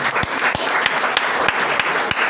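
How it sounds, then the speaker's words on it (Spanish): A church congregation at a Spanish-language worship service claps loudly and continuously, a dense wash of applause with a few heavier rhythmic hits standing out. "Denle un fuerte aplauso al Señor"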